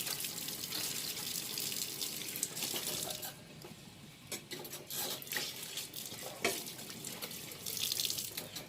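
A kitchen tap runs steadily while hands are washed after cleaning fish, with splashing and occasional clinks from the sink, moderately quiet and close.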